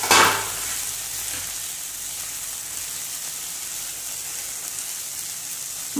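Chopped agathi (hummingbird tree) flowers frying in a pan for a vegetable pachadi, giving a steady, close hissing sizzle with a brief stirring rattle at the start and no talk.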